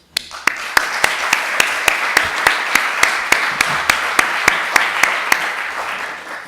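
An audience in an auditorium claps in unison, about three sharp, evenly spaced beats per second standing out over a steady bed of scattered applause for several seconds.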